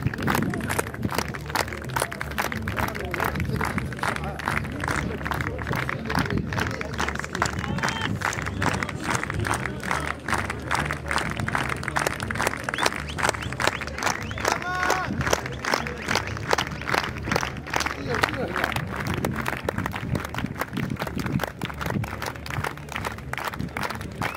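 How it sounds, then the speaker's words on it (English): A crowd claps steadily at the finish line of the Marathon des Sables desert ultramarathon as a runner comes in, a long run of dense rhythmic clapping with cheering mixed in and voices talking throughout. "Everyone's here; they're all clapping him in."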